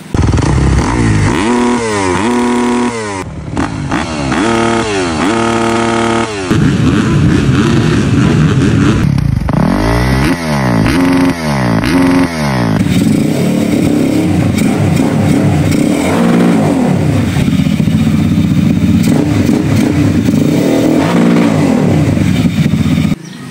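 A motorcycle engine fitted with a racing CDI revs repeatedly, rising and falling in loud bursts, then settles into a sustained, rough throttle roar close by.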